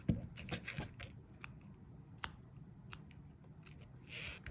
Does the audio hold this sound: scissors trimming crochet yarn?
yes